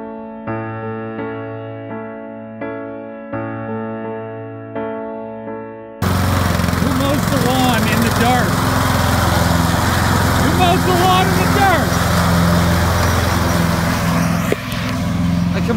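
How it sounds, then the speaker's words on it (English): A neighbour's lawn mower drones loudly and steadily at night, a rough continuous engine roar that cuts in abruptly after a few seconds of music and runs to the end. "he's mowing at 9 p.m."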